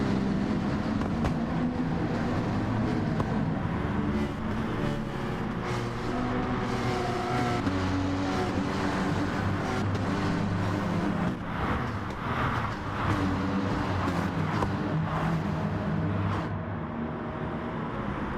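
Porsche Cup race cars in GT Sport run close together in slipstream at Fuji Speedway, their engines forming a loud, continuous, steady drone with no break.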